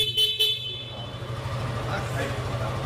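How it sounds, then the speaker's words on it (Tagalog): Two short, bright horn beeps from a 2024 Suzuki Gixxer 155 motorcycle sound close up at the start, followed by the steady hum of its idling engine. "Busina."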